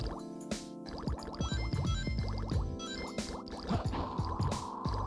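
Dripping water in the Aquatic Mine stage of the video game Sonic Adventure 2 Battle: steady watery drips and gurgling liquid tones repeat over busy game music and effects, with no talk.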